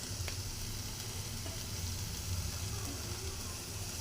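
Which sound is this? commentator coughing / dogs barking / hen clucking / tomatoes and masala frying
tomatoes and masala frying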